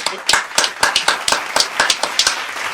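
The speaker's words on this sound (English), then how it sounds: "Would you give him a round of applause?" Scattered clapping from a small audience at a rally-style event honoring a man called Wild Man Willis, with distinct sharp claps in an uneven rhythm, fairly close and unaccompanied.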